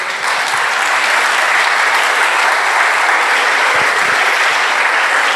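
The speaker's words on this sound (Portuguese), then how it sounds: "Você pode aplaudir o Espírito Santo?" Church congregation applauding during a sermon, a loud, sustained wash of many hands clapping at once, steady and even throughout without a break.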